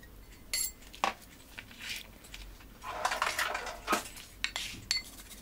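Light clinks and scrapes against a bowl as chopped parsley is added, a few scattered taps and a brief rustle, close by and fairly quiet.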